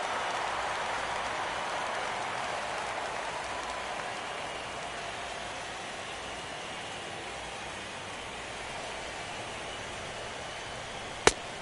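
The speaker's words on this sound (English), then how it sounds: "it's really raining hard here tonight" Heavy rain pours down on a night baseball game in MLB The Show 17, a dense constant hiss filling the whole stretch, ending in a single sharp click.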